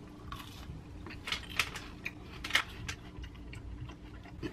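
Close chewing of an Enlightened original marshmallow crispy rice treat, soft crunchy bites and mouth clicks repeating over a low background hum, with no talking.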